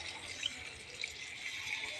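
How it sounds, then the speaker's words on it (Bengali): Water is poured into a curry pan for the gravy of a fish curry with beans, potato and tomato, giving a soft, continuous splashing trickle at moderate level. "এখন আমি ঝোলের পানি দেব,"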